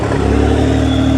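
A car engine revs loud and close while its driver struggles with the clutch, the pitch climbing and then holding a strained, steady drone for about a second.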